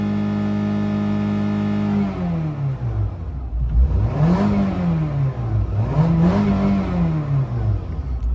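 A loud Nissan Altima race car engine idles, then revs twice in sweeping rising-and-falling bursts, close and alone, at Stafford Speedway.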